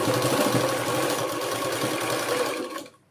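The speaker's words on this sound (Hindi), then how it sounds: "इस तरह से आप इस पे सिलाई लगा लें।" A sewing machine stitches a seam on trousers, humming and clattering at a steady fast pace close by for nearly three seconds before stopping abruptly.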